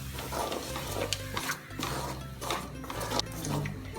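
A spoon or spatula scrapes and stirs cabbage poriyal with grated coconut and green chilli in a pan, Nagercoil wedding-style, giving a steady run of close, dry rubbing and scraping strokes with no talk.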